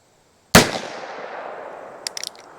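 A single sharp .22 rimfire gunshot with Federal Punch ammunition, a loud crack that rings out and decays, followed by a quick cluster of faint clicks.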